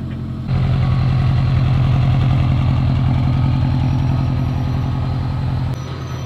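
A built Subaru STI engine idles steadily just after starting, a loud, close, rumbling low throb with even pulsing that holds throughout before dropping slightly near the end.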